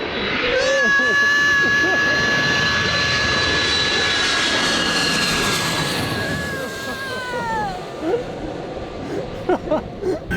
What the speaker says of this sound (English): watch the airplanes land